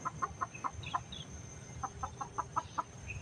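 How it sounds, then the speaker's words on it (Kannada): Backyard chickens near a house cluck in two quick runs of short, soft notes separated by a pause, fairly faint, with no talking. "ಇವು ನಮ್ಮ ಕೋಳಿಗಳು"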